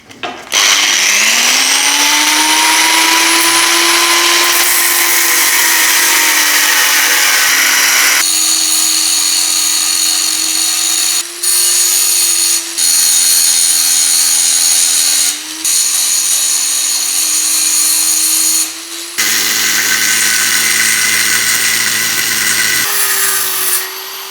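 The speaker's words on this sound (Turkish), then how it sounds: "Taşlama işlemi bitti." An angle grinder with a thick disc grinds scrap steel being shaped into a wood carving knife, a loud, close, high-pitched whine that shifts in tone as pressure changes, with several brief pauses between passes.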